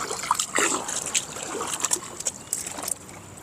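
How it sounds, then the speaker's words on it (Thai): Water rushing and splashing steadily nearby, a broad hissing flow with small splatters, no voices. "น้ำไหลเป็นน้ำตกเลย"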